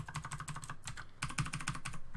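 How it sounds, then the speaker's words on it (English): Close, quiet typing on a computer keyboard: a steady patter of keystrokes, a brief lull near the middle, then a denser run of clicks, with no voices. "And then I start typing more stuff"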